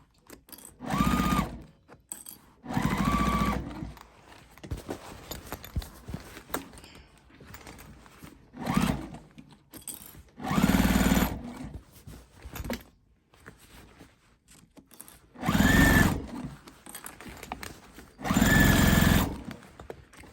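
A sewing machine stitches back over a tote bag seam in several distinct bursts of rapid mechanical whirring, each lasting a second or two, separated by quieter pauses with faint handling sounds.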